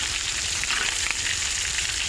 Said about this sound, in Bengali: বন্ধুরা, আমাদের চিংড়ি মাছ ভাজা হয়ে গেছে, দেখুন।